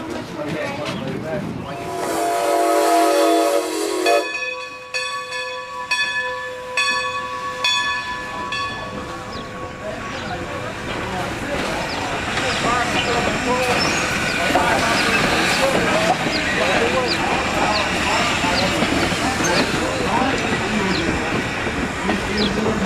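Strasburg Engine 90, a small train, rumbles past with steady clattering noise that grows and fills the scene, after a brief mechanical whistle-like tone at the start; people talk faintly.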